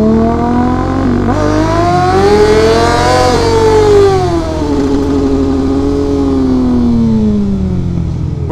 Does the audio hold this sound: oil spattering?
no